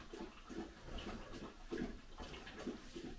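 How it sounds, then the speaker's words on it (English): A dog laps water from a bucket, a steady run of wet slurping splashes repeating in a quick rhythm, fairly quiet and close, with no talk over it. "Sounds like my mutt drinking out of my bucket of water over here."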